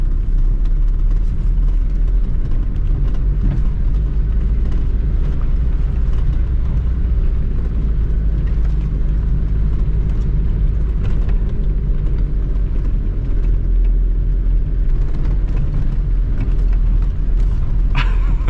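A Mazda car drives off-road along leaf-covered village roads, its engine and tyres producing a loud, steady low rumble with road noise from inside the cabin, and no clear talk throughout.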